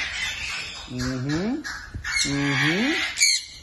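Mixed parrot species squawk loudly and close in a newly finished flight cage, two long harsh rising calls with other chatter around them, and a person's voice is heard among the birds.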